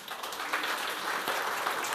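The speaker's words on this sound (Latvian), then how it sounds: "Paldies jums! Aplausi!" An audience at a panel discussion claps for a brief, fairly soft moment, a dense even patter of hands with no voices over it.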